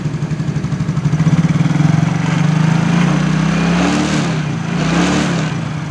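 A Yamaha X-Ride scooter engine runs smoothly after a repair of a rattling fault under throttle, its loud, close, even drone rising and settling as it is revved, with no talk over it.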